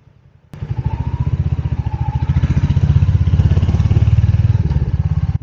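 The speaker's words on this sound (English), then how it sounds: "I just love the noise of this exhaust." A Royal Enfield Hunter 350 motorcycle exhaust burbles steadily nearby, a loud, deep, rhythmic thumping that starts abruptly and holds at an even low-speed pace.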